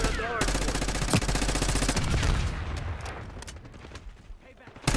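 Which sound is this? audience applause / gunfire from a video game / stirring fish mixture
gunfire from a video game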